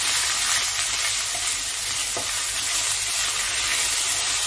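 Asafoetida and grated ginger fry in hot oil for a vegetarian moong dal and pointed gourd curry, giving a loud, dense, continuous sizzle with a faint stirring scrape, and no one speaking.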